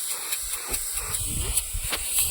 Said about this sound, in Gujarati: કુકરની સીટી કાઢી નાખી ખચોડી કુકરની સીટી